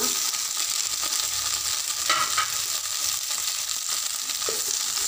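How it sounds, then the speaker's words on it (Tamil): Cauliflower and potato frying in hot oil in a frying pan, a steady close sizzle with faint stirring scrapes throughout and no voices. "ஃப்ரையிங் பேனில் ஆயில் விட்டு சூடானதும் காலிஃப்ளவர் உருளைக்கிழங்கு ரெண்டையும் இதில் சேர்த்துக்கலாம்."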